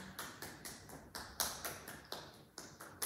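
Hands tap a bare foot during a children's aikido warm-up at home, about a dozen brisk, close, evenly spaced pats in a steady rhythm with no talking.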